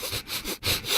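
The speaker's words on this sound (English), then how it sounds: "And now a sniff solo." Quick nasal sniffs close to the mic, several short breathy inhales in a rough rhythm over about a second, with no talk.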